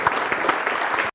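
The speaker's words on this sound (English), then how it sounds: "Tak teď vás poprosím o potlesk." A short burst of dense audience applause at a Prague event, many hands clapping steadily before cutting off abruptly.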